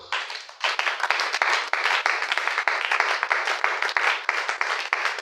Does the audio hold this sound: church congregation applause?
yes